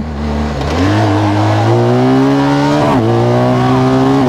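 A BMW GS 1250 Pro HP motorcycle accelerates hard, its engine loud and close, climbing steadily in pitch. The revs dip briefly at a gear change, then rise again, with no voices.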